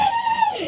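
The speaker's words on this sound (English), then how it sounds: "Mexican scream." A Mexican-style celebratory scream, a single short high-pitched warbling yell from a person, loud and close.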